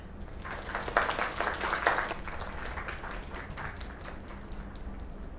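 Applause from a crowd in a video game, a burst of clapping that swells early and then thins into lighter scattered claps.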